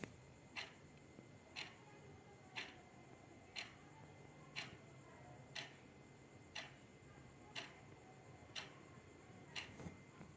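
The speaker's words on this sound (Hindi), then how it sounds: "ये घड़ी की टिक टिक टिक टिक है।" A wall clock ticks at home, faint but steady at about one tick per second against a quiet room hiss.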